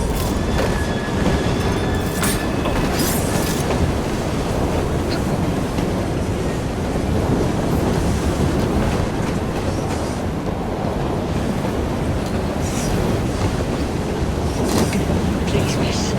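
A steam train rolls steadily in the game Assassin's Creed Syndicate, a loud continuous rumble with faint rhythmic clatter throughout.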